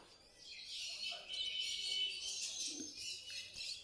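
Caged Bengalese finches and other small birds at a weekly bird market, faint high chirps and tweets over quiet background murmur.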